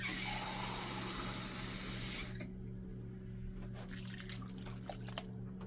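Water poured from a can into a baking dish of lazy cabbage rolls layered with rice, meat and tomato soup: a soft, continuous splashing pour that stops abruptly, leaving faint drips and clinks.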